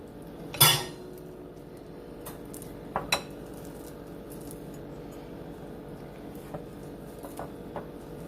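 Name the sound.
mixing chocolate chip scone dough in a bowl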